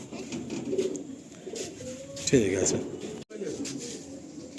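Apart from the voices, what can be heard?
pigeons cooing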